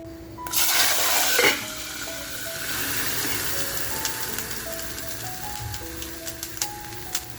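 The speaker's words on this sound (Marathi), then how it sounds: "आता जे आपण आलं आणि लसूण मध्ये पाणी जे टाकून घेतलंय ते आपण छान असं फोडणीला देऊन घेऊया." Ginger-garlic paste thinned with water hits hot oil for a tempering while mutton masala is being made, setting off a loud burst of sizzling that settles into a steady, crackling fry with no talking.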